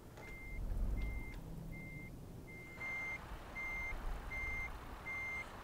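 Repeated reversing beeps from a truck in Euro Truck Simulator 2, a steady string of evenly spaced electronic tones over a low engine rumble, starting faint and becoming louder and clearer partway through.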